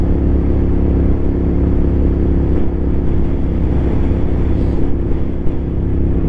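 A motorcycle ridden on a winter road with salt on it, producing a steady loud engine drone mixed with heavy wind rumble that holds constant throughout, with no speech.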